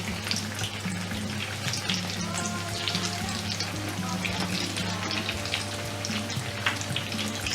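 Akara bean fritters (koose) fry in hot oil with a steady, close sizzle and crackle that runs unbroken throughout, while faint kitchen clinks and water sounds show up now and then.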